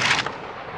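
One loud, booming rifle shot fired while hunting aoudad in Texas, with a hang fire, hits hard at the start and then dies away into a rolling echo.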